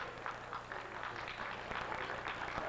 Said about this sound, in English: Look at all that applause you're getting out there.